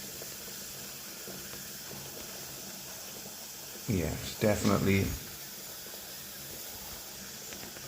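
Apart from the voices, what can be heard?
steam hissing from probes of Sage/Breville BES920 coffee machine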